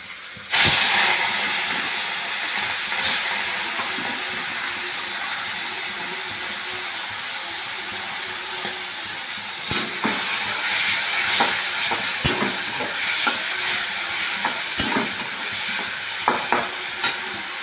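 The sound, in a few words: shrimp frying in hot oil in a wok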